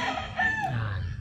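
A gamefowl rooster of 5K sweater, yellow legged hatch and golden boy sweater bloodlines crows once, close and clear, in a brief call with no other sounds.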